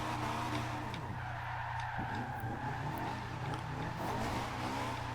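Honda S2000 drift build sliding sideways in Forza Horizon 2, a steady engine drone and tyre scrub held continuously at constant loudness, with no talk.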